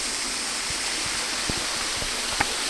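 Tise Falls at Hanging Rock State Park, North Carolina: a steady, full-bodied rush of falling water pours continuously, close and loud, with a few faint clicks and knocks within it.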